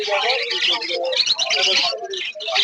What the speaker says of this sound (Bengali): জেবরা ফিন্স